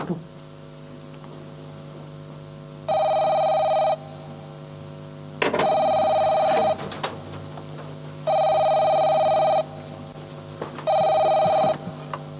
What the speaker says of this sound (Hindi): ये गुलशन भाभी ने जीनत का फोन था।